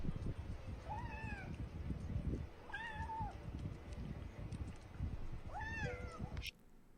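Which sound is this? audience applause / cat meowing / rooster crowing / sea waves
cat meowing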